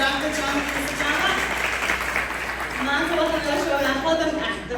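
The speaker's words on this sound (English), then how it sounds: "Give him another round of applause." Audience applause fills the room at a professionals' unity summit in Atlanta, steady clapping from a crowd heard under a voice speaking through it.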